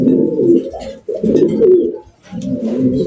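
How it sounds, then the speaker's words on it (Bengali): A male pigeon coos in repeated low, throaty phrases, close by and fairly loud, with a short pause between bursts and no talk over it. "দেখেন একটা নর কবুতর"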